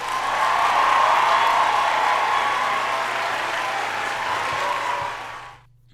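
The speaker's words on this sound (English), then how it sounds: "Give Chris a round of applause." An audience applauds Chris Hansen with steady, loud, dense clapping mixed with a few faint cheers, sustained for several seconds before fading out at the end.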